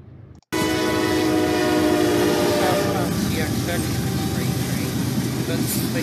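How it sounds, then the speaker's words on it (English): A southbound CSX freight train rolls past close by, a loud sustained rumble of wheels and cars with a horn-like tonal drone, continuous for several seconds. "This one is a southbound CXX train."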